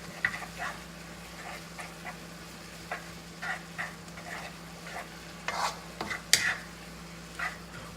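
Ramen noodles being stirred in a pot of simmering soup, soft wet scrapes and light clacks of a utensil repeating irregularly over a steady low bubbling hiss, close and quiet, with no speech.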